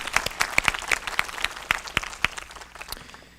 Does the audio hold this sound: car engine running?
no